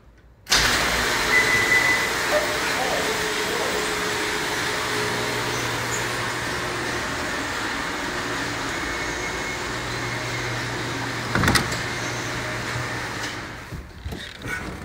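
A 1957 Pontiac Star Chief Safari two-door wagon, its engine starting abruptly and then running at a steady idle, close and fairly loud, with a brief mechanical clunk near the end before the sound trails off.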